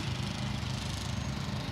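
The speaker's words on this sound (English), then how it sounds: "I'm sorry about the lawnmower in the background" A petrol lawn mower runs steadily in the background, a continuous mid-pitched engine drone at moderate distance with no talk over it.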